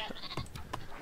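Sheep in the Northgard video game give a few short, faint bleats in quick succession, quiet and brief against a low background.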